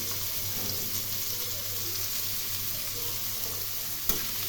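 Ash gourd peels hitting hot oil already frying nigella seeds and dried chili, giving a steady, close hiss of sizzling with a faint low hum underneath and one brief clatter near the end.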